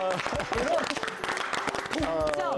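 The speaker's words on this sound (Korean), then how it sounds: "박수 먼저" Studio audience applause on a Korean TV comedy news segment, a dense steady patter of clapping running the whole time with voices talking and exclaiming over it.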